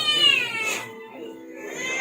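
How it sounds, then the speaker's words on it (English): Pet cats meowing outdoors in the Philippines, two drawn-out, wavering calls close by, one higher and one lower and trailing, with faint background noise. "Sorry, my cats are just constantly calling out to me."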